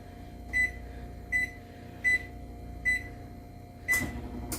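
An oven's control panel gives five short, clear electronic beeps at uneven intervals as the settings are entered, over a faint steady background hum.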